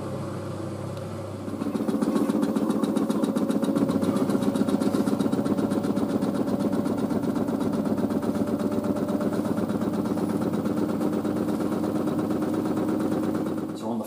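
A washing machine starts its spin cycle during a wash with liquid detergent: a steady motor hum builds at about a second and a half, then holds as a loud, continuous, close whirr with a fast rhythmic flutter.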